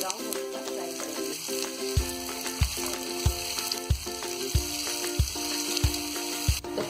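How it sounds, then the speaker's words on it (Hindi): Onions sizzle and fry in hot oil toward golden brown, a steady close crackle with regular soft knocks of stirring roughly every half second and no speech. "प्याज को हम हल्का सा गोल्डन ब्राउन होने तक फ्राई करेंगे।"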